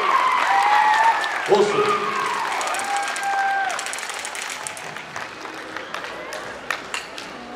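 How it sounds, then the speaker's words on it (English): Papakowhai Warriors receive a crowd's applause and cheering at a church sports tournament at Te Rauparaha; loud clapping opens the stretch, then thins out beneath shouting voices and a brief spoken remark. "give them a big round of applause"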